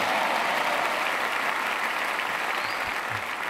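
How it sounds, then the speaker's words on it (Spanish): A church crowd at Lakewood gives loud, sustained applause during a concert, a dense even wash of clapping that barely fades across the moment. "déme un fuerte aplauso y diga amén"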